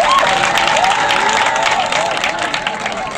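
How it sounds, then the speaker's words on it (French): A crowd at a local community gathering applauds, a dense continuous wash of clapping that slowly fades over a few seconds, with a voice faintly audible beneath it. "C'est sur un tonnerre d'applaudissements que la population a accueilli les explications claires et précises de monsieur le député Blessy"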